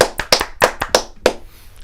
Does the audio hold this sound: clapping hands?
yes